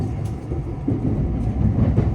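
A JR West limited express Shirasagi, a six-car all-reserved train running from Nagoya toward Tsuruga, rumbles steadily with low rolling rail noise and faint clatter, heard from on board at a constant loudness with no talk.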